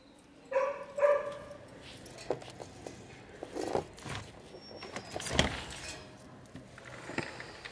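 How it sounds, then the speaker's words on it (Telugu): Dogs bark intermittently in the distance, a few sharp yelps scattered over a quiet background with light clattering. "కుక్కలు అరిచేస్తున్నాయి"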